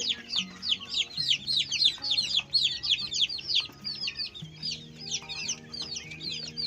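Many native chicken chicks in a brooder peep and cheep continuously in high, busy chirps, with a low hum running steadily underneath.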